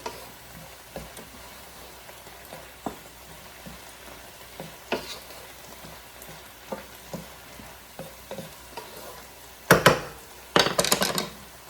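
A stir-fry sizzles steadily in a pan while a wooden spatula stirs it, adding soft scrapes and taps throughout. Two louder bursts of clatter and hissing come near the end.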